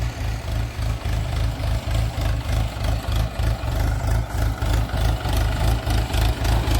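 A tractor engine idles steadily nearby, its low, rhythmic diesel thump pulsing evenly and loud throughout with no talk over it.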